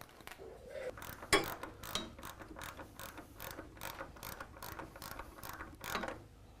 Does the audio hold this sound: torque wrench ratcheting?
yes